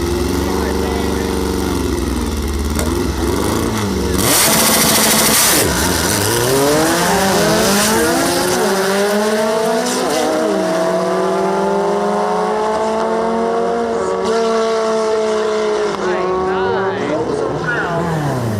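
Drag racing cars launch down the strip, loud engines screaming and climbing through gears, with a sharp burst near the start and a track announcer talking over the roar.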